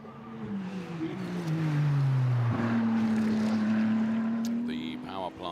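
Ferrari 296 Challenge race cars in qualifying at Mugello, a loud engine note sweeping down then holding a steady high pitch as a car passes close, with a commentator talking over it.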